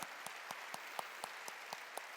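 A church congregation claps in a steady unison rhythm, about four even claps per second, fairly faint and heard alone with no talking.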